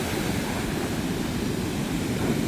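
Ocean surf breaks on a beach near Santa Marta, Colombia, where the water is too rough for swimming, a steady broad roar of rushing water with no distinct single crash, close and continuous.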